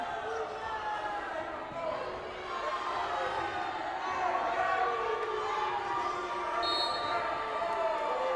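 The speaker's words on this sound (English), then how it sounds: "That explains the loud crowd noise." Loud, sustained crowd noise fills a gym during a high school volleyball match between Los Fresnos and Harlingen South, with cheering, shouting voices and shoe squeaks rising and falling steadily.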